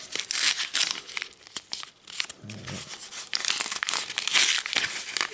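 McDonald's 2021 promotional Pokémon card booster pack torn open by hand; close, crisp foil tearing and crinkling in irregular bursts for several seconds, with a faint voice briefly in the middle.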